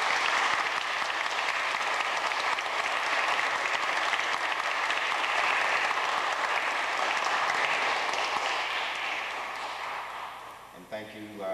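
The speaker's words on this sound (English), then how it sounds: "I'd like to have another round of applause for the wonderful music." Audience applause following a jazz quartet performance, a dense sustained wash of clapping that holds steady for about ten seconds before thinning out, with a voice starting to speak at the very end.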